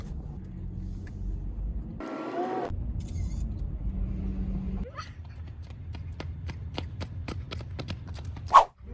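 A car rolls slowly through a tunnel carved into a fallen giant sequoia log in Sequoia National Park, a soft low engine rumble with faint knocks and a sharp click near the end.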